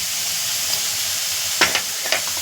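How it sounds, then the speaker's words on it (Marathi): Vegetables for bottle gourd soup sauté in a pan, a steady close hiss of frying with a few sharp scraping clicks of stirring toward the end. "आणि आता हे पुन्हा परतून घ्यायचं आहे सगळं"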